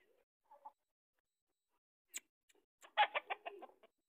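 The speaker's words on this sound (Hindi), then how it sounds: "मुर्गियाँ, ये शाम की चहल पहल देख सकते हैं।" Chickens cluck in a short, close burst of rapid calls in the evening, after a few faint chirps and a sharp knock, with long quiet gaps between them.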